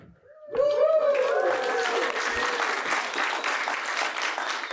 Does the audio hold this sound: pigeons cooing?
no